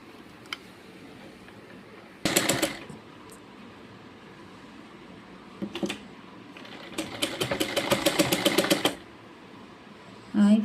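A domestic sewing machine stitching cloth while a neck edge is sewn, heard as a short loud burst of rapid stitching, a brief pause with small clicks, then a longer steady run of needle chatter, close and alone.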